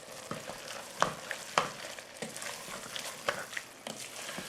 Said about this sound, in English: Stir it up and let that spice mix saute a little bit, okay?